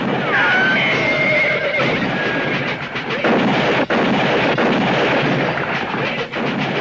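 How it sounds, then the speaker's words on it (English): Horses whinny shrilly amid a dense rush of galloping hooves and commotion, with sharp cracks cutting through the busy, loud scene. "The horses are running away!"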